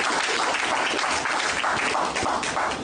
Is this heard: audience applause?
yes